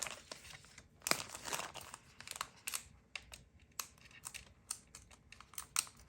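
Paper and plastic packaging for a monthly sticker subscription pack being torn and crinkled open by hand, a close, quiet series of irregular rustles and sharp crackles with short pauses between bursts.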